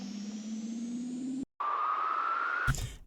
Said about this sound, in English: We have another riser from that pack